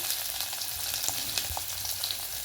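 Mustard seeds, cumin and onion fry in hot oil for radish sambar, a steady bright sizzle with scattered crackles and pops running evenly throughout.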